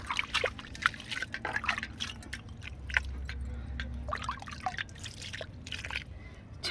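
Yogurt is added into a besan mixture for a homemade garden solution, making soft wet plops, drips and slurping, stirring sounds close by and fairly quiet, with no talking.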